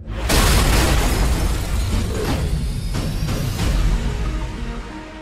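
Bombs go off in an action film trailer: a massive boom bursts in and rolls on as a dense, roaring wall of blast noise with further thuds layered in, loud and sustained over several seconds.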